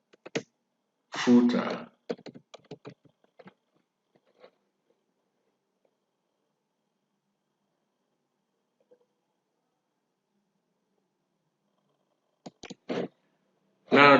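Short bursts of keyboard typing on a computer, quick clustered clicks near the start and again near the end with long quiet gaps between, a voice speaking briefly.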